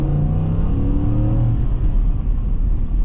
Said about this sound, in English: And the engine note sounds heavenly every time.